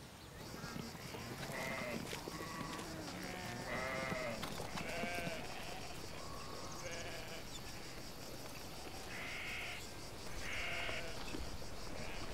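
Several sheep bleat repeatedly in an outdoor rural setting, their wavering calls rising over a noisy, rough background, some close and loud, others fainter.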